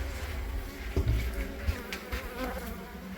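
Honeybees buzz close by inside a bathroom during a hive removal, a steady insect drone with a few louder bumps and knocks.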